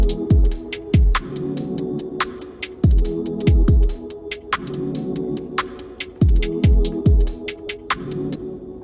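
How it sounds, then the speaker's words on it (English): Atmospheric synth stabs play in a UKG drill track, sharp chords hitting in a choppy spliced pattern over deep gliding 808 bass hits that recur in clusters, loud and up front with no voice. "And then we bring in the atmospheric stabs again."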